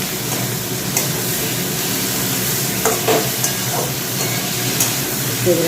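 A ladle stirs food in a home cooking pan over steady frying sizzle and steam hiss, with a few soft scraping knocks near and alone, no talk.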